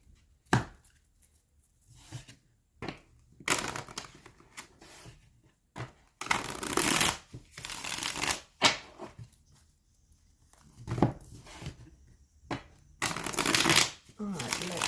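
Tarot cards are shuffled and handled up close in repeated riffling, flapping bursts with short pauses between, while a voice talks intermittently.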